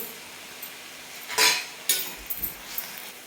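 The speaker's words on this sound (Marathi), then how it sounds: "मीठ पण टाकून आपण परतून घेऊ" Safflower greens are tossed in a pan with a spoon after salt goes in, giving a few sharp metallic scrapes and clinks over a faint background hiss, with quiet gaps between strokes.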